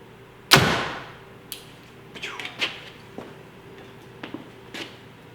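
A Hoyt Ventum compound bow fires an arrow with one sharp, fairly quiet release thump, followed by a few faint knocks and light handling noises in a quiet indoor space.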